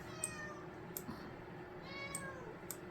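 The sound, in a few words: cat meowing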